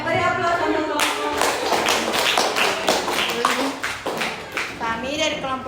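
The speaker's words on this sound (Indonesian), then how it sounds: "beri aplaus untuk kelompok" Students in a classroom applaud a group that has just presented a physics lesson, a dense run of close, rapid hand claps that carries on for several seconds, with voices mixed in.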